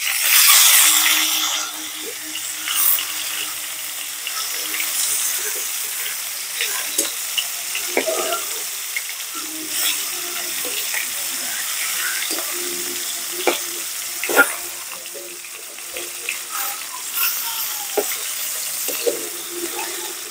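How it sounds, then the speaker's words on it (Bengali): Fish fry in hot oil in a Bengali kitchen, a continuous soft sizzle with crackling pops scattered through it and a brief louder burst at the start. "মাছগুলো একটু ভাজা হয়ে গেছে।"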